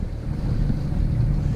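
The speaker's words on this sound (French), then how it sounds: "Un petit peu de vent est apparu." Light wind gusting over a sailboat in the Strait of Gibraltar, a steady low rumble of air buffeting the microphone with faint water wash beneath, continuous and close with no voices.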